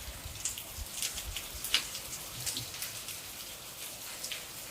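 Rain falling outdoors during a spell of monsoon downpour, heard as a steady, fairly faint patter and hiss with occasional louder drops, with no talking.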